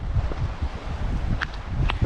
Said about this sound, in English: It is going to be windy out here.